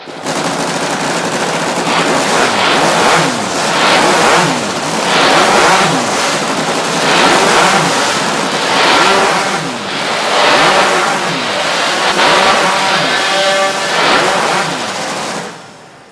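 Several chainsaws rev hard at once during a warm-up at a STIHL TIMBERSPORTS Nordic Pro Championship timbersports competition, their engines rising and falling in loud overlapping bursts that continue for about fifteen seconds before cutting off.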